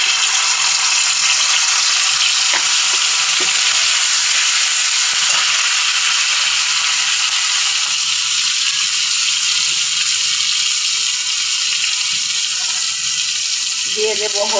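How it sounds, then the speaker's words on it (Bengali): Onion paste sizzles in hot oil in a pan, a loud, constant hiss with no break, with a faint voice heard under it. "এবার আমি আরেকটু তেল দেব। এখন আমি দিয়ে দেব পেঁয়াজ বাটা"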